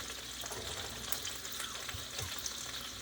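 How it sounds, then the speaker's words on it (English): Onions sauteing in a pan for boeuf bourguignon over turned-down heat, giving a quiet, even hiss and crackle that carries on steadily with no one talking. "turn my heat down a bit and allow the onions to saute and cook through"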